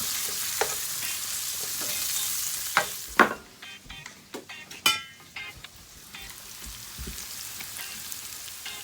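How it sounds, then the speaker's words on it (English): Diced potatoes frying in a pan for a Jamaican-style curry shrimp hiss with a steady sizzle, punctuated by a few sharp scrapes and taps of a spoon stirring against the pan. "We're gonna let the potato kind of get a little brown to it, because it takes a little longer time to cook."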